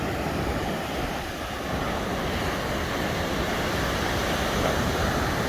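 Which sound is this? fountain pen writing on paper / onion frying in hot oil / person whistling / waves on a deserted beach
waves on a deserted beach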